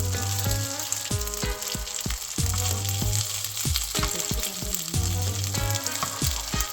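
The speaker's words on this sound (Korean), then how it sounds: "팬에 버터 한 덩이 넣어서 전체적으로 코팅해주고 주먹밥 하나씩 올려서 굴리면서" Rice balls pan-fry in butter with a steady, close sizzle that runs throughout, mixed under rhythmic background music.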